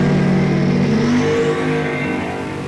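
A 1969 Camaro and a 1970 Mustang launching side by side at a drag strip, loud close engines revving hard with a rising, overlapping growl that eases slightly toward the end.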